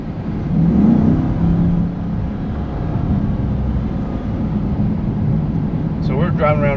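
Chevrolet Corvette C8 in tour mode pulling away through city streets, a steady low engine drone and road rumble holding throughout, with a brief voice starting near the end.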